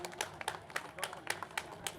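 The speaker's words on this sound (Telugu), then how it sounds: "ఈ జ్ఞానాన్ని మనకు అందించిన బ్రహ్మర్షి పితామహ పత్రిజీ గారికి కూడా గట్టిగా క్లాప్స్ కొడదాం" A crowd at a pyramid meditation event in Guntur claps in a steady, uneven rhythm at moderate distance, with separate hand claps popping out of the mix.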